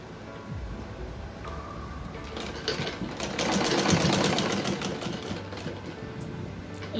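Sewing machine stitching piping onto a baby frock, a close, steady mechanical whirr of fast needle strokes that picks up speed midway and runs on continuously without voices.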